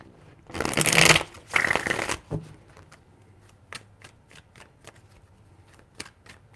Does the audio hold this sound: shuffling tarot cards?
yes